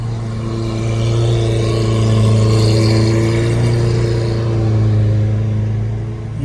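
A McLaren MP4-12C supercar on a Miami street, its mid-pitched engine humming steadily and swelling slightly in revs, close and fairly loud with no talking.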